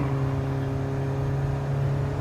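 A car engine held at full throttle around 4,500 RPM and struggling for power, a steady droning hum with a strained, constant tone and no change in pitch, close and loud throughout.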